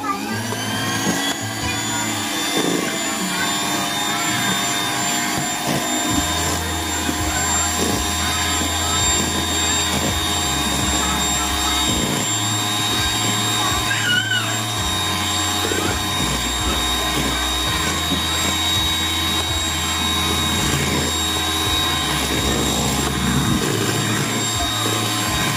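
An electric hand mixer beats pineapple pie ingredients, a steady loud motor whine running throughout with shifting low-pitched tones as it works the mixture, with no talking.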